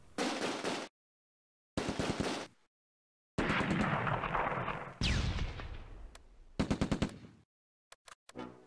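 Bazooka blasts and machine-gun fire in the Close Combat: A Bridge Too Far war game during an anti-tank ambush: loud bursts of rattling gunfire broken by silent gaps, then a heavy explosion and a few sharp closing shots.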